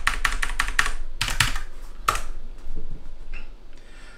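Computer keyboard typing while confirming a password during a Windows 10 VHD boot setup on a laptop: a quick run of crisp close keystrokes, a brief pause, a few more taps and a final keypress, then quiet room noise.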